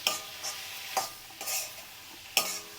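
Peanuts, tomatoes and green chillies fry in a pan for a peanut roti pachadi, with a soft continuous sizzle under several distinct spatula scrapes and clinks at irregular intervals.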